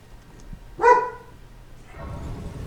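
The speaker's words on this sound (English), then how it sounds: "That's my dog." A pet dog gives a single sharp bark nearby in a quiet home, followed by a soft rustling shuffle, with no talking.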